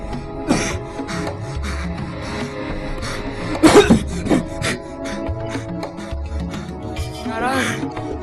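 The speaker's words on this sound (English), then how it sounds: "Lying on his bed, Ajamil is coughing." A man coughs a few times over a busy background of rustling and scraping, with a louder burst of coughing near the middle.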